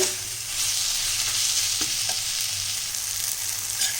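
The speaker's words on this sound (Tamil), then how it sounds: "இப்போ இந்த வெங்காயம் தக்காளியெல்லாம் நல்லா வதங்கிடுச்சு" Onions and tomatoes for tomato rice sauté in a pan with an even, continuous sizzle and occasional light stirring clicks, close up and without talk.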